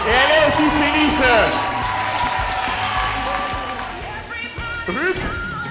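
Audience applause and cheering for a woman singer introduced on stage at a church women's department event in Lubumbashi, loud and steady with several voices calling out over the clapping.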